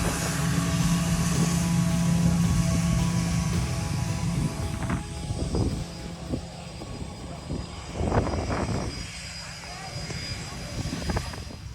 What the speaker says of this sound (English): if you stand at the end of the runway while the plane's taking off, you'll feel the full force